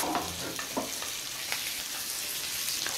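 Fried chicken 65 pieces are tossed into hot oil with garlic and curry leaves, a close, steady sizzle with scraping stirs throughout and no talking.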